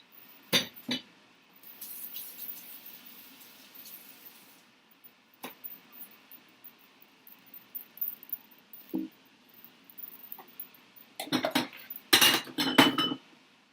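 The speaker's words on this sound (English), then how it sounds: "put my dishes away" Dishes and cutlery are put away in a home kitchen in scattered bursts: sharp clinks of silverware, knocks of plates and glassware, with quiet gaps between and a busier cluster of clatter at the end.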